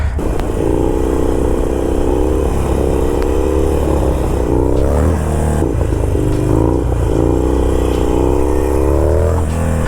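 A Harley motorcycle engine runs loud and near during wheelie practice, holding a steady rumbling drone with rising and falling revs and some clattering, with no talking.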